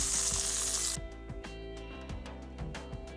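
Butter hisses loudly in a frying pan for about a second at the start of making pumpkin halwa, then cuts off, leaving steady background music with light clicks.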